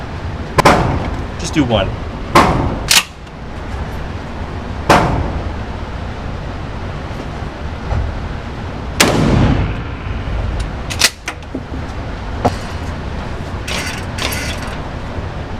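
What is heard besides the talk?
shotgun shots fired at 15 yards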